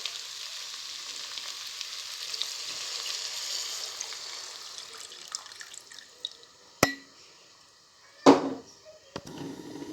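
Rice fries in a pot with a steady broad sizzle that gradually thins out, then a few sharp clatters and a loud hissing burst near the end, close by.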